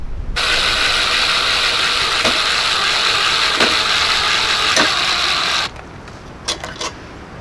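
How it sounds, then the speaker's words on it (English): A 7/16 wrench or ratchet turns a nut on a machine screw for a homemade surf fishing cart, giving one long, steady, close ratcheting whir that stops abruptly, followed by a few faint clicks. "I'll put a nut on from the back, holding it in place with a 7/16 wrench"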